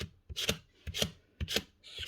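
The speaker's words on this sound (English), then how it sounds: "Scrape off all the excess." A folding utility scraper blade rasps carbon buildup off the reed valve of a Paslode IM350+ nail gun, giving four short, close scraping strokes at a steady rhythm with brief pauses between.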